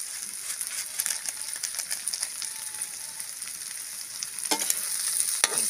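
Burger patty mixture sautéing and being stirred in a hot pan, a steady close sizzle and frying crackle with scraping stirs throughout, no voices.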